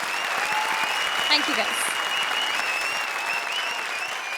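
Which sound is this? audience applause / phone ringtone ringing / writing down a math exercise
audience applause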